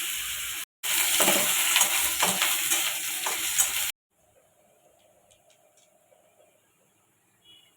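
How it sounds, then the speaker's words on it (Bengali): Nigella seeds sizzle in hot oil in a loud, dense burst for about three seconds after a short gap, then the pan quiets to a faint low crackle for the rest. "কালো জিরা ফোড়ন দিয়ে দিচ্ছি"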